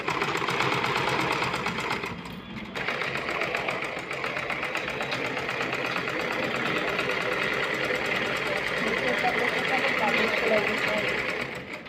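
A sewing machine stitching a long seam on a blouse runs steadily with a continuous whirring hum and a short pause near the start, while someone talks over it.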